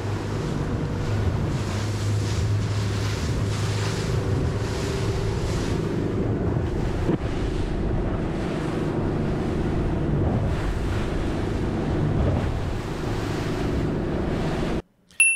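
Boat sailing off Gran Canaria through ocean waves about 1.5 to 2.5 metres high on a downwind run, with steady rushing water and heavy wind noise buffeting the microphone, loud and continuous until an abrupt cut at the end.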